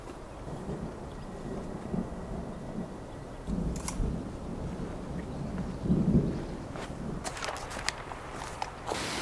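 Steady rain hissing outdoors in a forest with occasional drips and thuds nearby, and a faint distant rumble; no voices.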